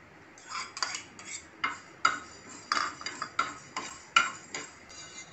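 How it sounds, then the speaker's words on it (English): Mustard and fenugreek seeds dry-roast in a pan over a low flame, stirred with a utensil that makes a steady series of sharp clinks and taps against the metal, about three per second, alone and fairly close. "Roast mustard seed and fenugreek seed."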